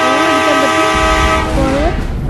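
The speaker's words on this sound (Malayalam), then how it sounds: "Forward train engine on." Train engine in the mobile game Indian Bike Driving 3D starting up: a sustained, loud tonal horn-like drone with a deepening rumble partway through, heard alone without talk.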